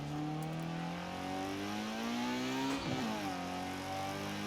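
Engine of a 1960 Porsche 718 RS 60 in the Forza Horizon 4 racing game, droning steadily at mid revs, dipping briefly as the clutch goes in, then rising again, loud and alone with no voices.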